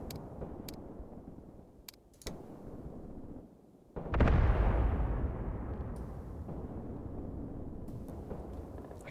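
Artillery fire from the war game Graviteam Tactics, rumbling booms with a big, heavy blast around the midpoint and a long decaying roar after it, over steady low battle noise.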